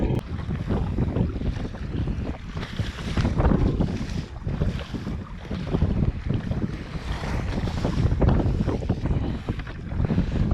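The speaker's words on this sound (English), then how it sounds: "It's about to come around into big headwinds again and do battle. Yeah, it's a good 18 to 20 knots." A strong headwind of 18 to 20 knots blows during a sea kayaking trip. Gusty wind roars and buffets continuously across the microphone, with splashing water and waves underneath and no voices.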